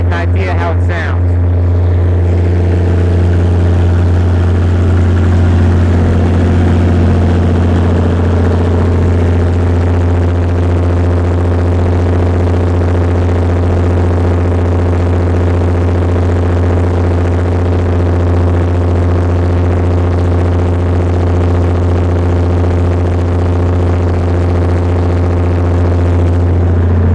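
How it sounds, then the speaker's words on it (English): A large Perkins diesel generator engine runs steadily close by, a loud, constant low rumble with a deep droning hum that holds unchanged throughout. "I'm going to walk over close to the engine and we'll see if you can get an idea how it sounds."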